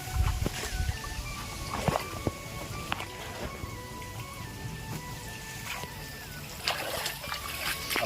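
Water splashes and sloshes in irregular bursts as someone bathes outdoors near farm fields, fairly faint and close, with intermittent voices over it.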